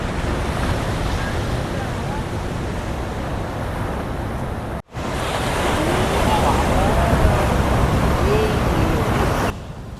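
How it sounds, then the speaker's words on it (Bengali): Big ocean waves roll in at Puri beach in a loud, continuous roar, with heavy wind noise buffeting the microphone and a brief cut in the middle. "কি ঢেউ রে বাবা"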